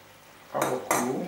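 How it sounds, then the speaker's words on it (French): A utensil scrapes and clinks against a small saucepan as butter is stirred, two short metallic bursts close by with a quiet kitchen background. "Je mets un petit peu de beurre."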